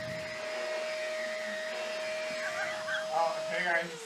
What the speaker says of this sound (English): is that a Shark vacuum cleaner?